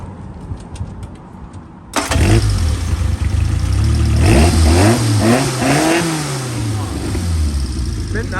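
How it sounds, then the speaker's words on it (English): A car engine with a straight-through exhaust starts after a quiet lead-in, then gives a series of loud, close revs and blips that rise and fall over a steady idle, with people talking in the background. "We always like the sound of an engine,"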